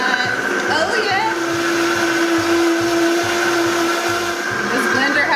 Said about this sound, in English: This blender has me feeling like the kitchen DJ girl.